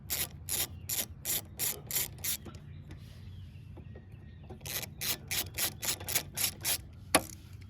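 A ratchet clicks in two quick bursts of rapid, evenly spaced strokes while loosening 5/16 carburetor bolts on a Briggs & Stratton 775EX engine, close and fairly loud, with a short pause between the bursts and a single sharp knock near the end.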